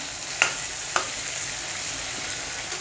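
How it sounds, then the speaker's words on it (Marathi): Tomato pieces sizzle and fry softly in a pan for sambar, a steady close crackle with a couple of sharp clinks from stirring near the start, no voice over it. "दोन मिनटं हे टोमॅटो ह्यामध्ये जरा परतून घेऊया"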